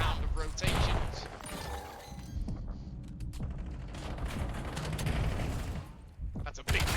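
A grenade goes off in a competitive shooter match amid dense gunfire, with booming blasts and rattling shots layered close together under a fast commentator's voice.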